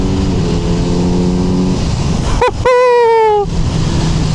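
Kawasaki Z900 naked motorcycle with stock exhaust, its intake and engine note loud and close while riding: a steady drone, a sharp blip around mid-clip, then a rising high-pitched rev that holds for about a second before easing back to cruise.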